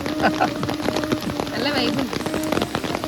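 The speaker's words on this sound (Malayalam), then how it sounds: "നല്ല മഴയാണ്" Rain patters steadily on surfaces inside the forest at Malampuzha while a person talks over it, with a faint tonal hum running underneath.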